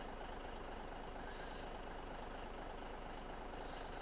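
A truck engine idles in Farming Simulator 2017 as a steady low rumble, even and moderately quiet, holding unchanged for several seconds with no voices.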